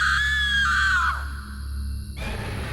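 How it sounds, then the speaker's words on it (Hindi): A woman's painful scream in a horror story: one loud, high, drawn-out cry that slides downward and breaks off, leaving a low eerie drone underneath. "वहां से एक औरत की दर्दनाक चीख आई।"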